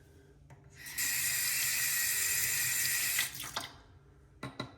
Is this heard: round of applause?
no